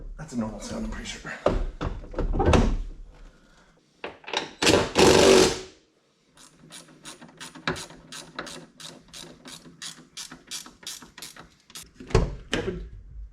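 Doors on a 2018 Dodge Charger Hellcat swing open and shut, giving a run of mechanical clunks and latch clicks, a loud bang near the middle, then quieter rattling, with a person speaking in between.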